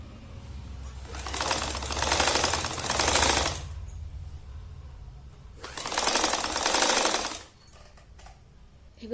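A sewing machine stitches cloth for a gomukhi japa mala bag in two loud whirring runs of about two seconds each, separated by a quieter pause.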